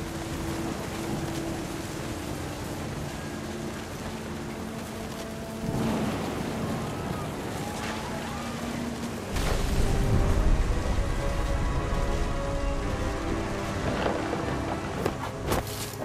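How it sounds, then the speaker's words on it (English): A thunderstorm with rain and wind rolls through in What Remains of Edith Finch, a steady hiss of rain beneath deep rumbling thunder that swells into a heavier, close crash midway. "The thunder sounded much too close and full of angry power"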